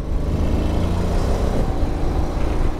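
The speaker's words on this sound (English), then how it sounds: "it's got plenty of go for in-city riding" A 2022 Honda X-ADV scooter accelerates hard to overtake, its engine rising in a close, loud, rough drone for a few seconds with wind noise and no speech.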